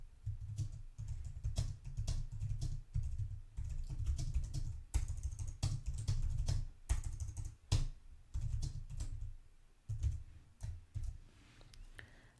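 Keys clatter on a computer keyboard as text is entered into a form field, in close, irregular bursts of clicks with brief pauses and no voices.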